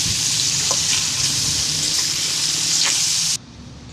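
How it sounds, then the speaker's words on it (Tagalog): Pork adobo sizzles steadily as it fries in its own rendered oil, with a couple of faint scrapes from stirring before the frying noise drops away abruptly near the end. "Halu-haluin lamang para hindi masunog ang ilalim."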